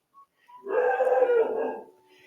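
A pet dog indoors lets out a short yip, then a sustained, wavering howl-bark lasting over a second, fairly loud and close, with no talking.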